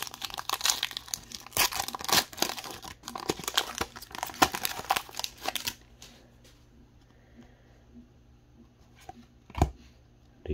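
Pack of 2021 Donruss football cards ripped open, with dense crinkling and tearing of foil wrapper for several seconds, then quiet handling and a single sharp rustle.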